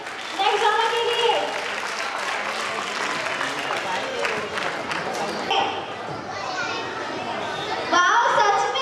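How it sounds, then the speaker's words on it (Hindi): Parents and children clap for young performers at an Urdu school's annual function, a busy hall of applause mixed with children's chatter and voices, rising again loudly near the end. "बच्चों के लिए तालियां हो जाए नेक्स्ट ड्रामा के लिए।"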